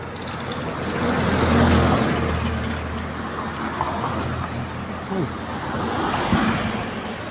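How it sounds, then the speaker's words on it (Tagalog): Strong waves of flowing water rush continuously at a stream, a loud broadband wash with wind buffeting the microphone and surges swelling and easing throughout. "Ang lakas ng alon."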